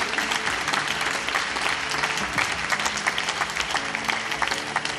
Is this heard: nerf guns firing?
no